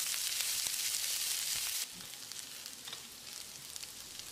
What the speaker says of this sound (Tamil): வெங்காயத்தை நல்லா பொன் நிறமாக வதக்கிடலாம்.